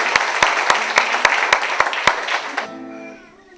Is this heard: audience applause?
yes